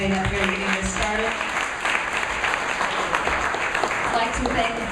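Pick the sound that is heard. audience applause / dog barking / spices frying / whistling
audience applause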